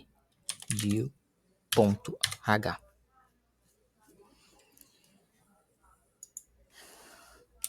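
C code is typed on a computer keyboard. Quiet scattered key clicks follow a voice, and a denser burst of typing comes near the end.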